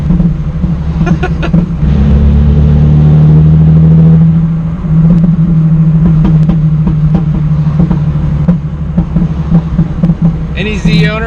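Z car with a muffler delete idling and burbling, a loud, close, low engine rumble with an uneven pulsing exhaust note, a brief rev swelling early on and a voice speaking over it.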